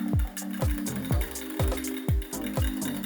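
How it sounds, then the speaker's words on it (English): Sweetener being whisked into chai in a cup: a steady rhythmic run of quick swishing strokes with a faint ringing tone, close and moderately loud, and no talking. "I'll whisk that up"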